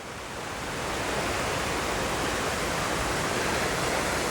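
Falling Springs waterfall in heavy flood flow pours with a dense, constant roar that builds slightly at the start, then holds a loud, unbroken wash of rushing water with no voices.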